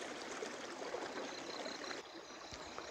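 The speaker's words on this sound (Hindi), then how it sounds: "ये हमारा धारा नौला जहाँ से पानी आता है" Water runs steadily from a village spring spout, a continuous close stream with a soft trickling texture and no voices.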